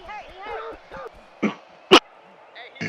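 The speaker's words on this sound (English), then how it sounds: "Sorry, a bit of a cough there." Someone commentating on a Legend Bowl football video game talks, then breaks off with two sharp, close coughs about half a second apart before speaking again.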